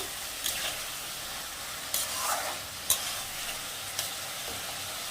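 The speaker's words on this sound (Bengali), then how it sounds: "আলুগুলো দিয়ে দিলাম, দিয়ে আবারও ভালো করে নেড়ে নেব" Potatoes are stirred into a singhi fish curry in a pan: a constant, hissing sizzle with a few short scrapes of the spoon at irregular moments, close up and without any talking.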